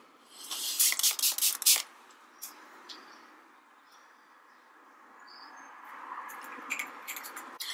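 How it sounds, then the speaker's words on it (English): Several quick hissing sprays of Gerard Cosmetics Slay All Day face setting spray misting in a short burst, followed by quiet rustling and faint handling sounds. "now I'm going to spray my face with the Gerard Cosmetics Slay All Day Face Setting Spray"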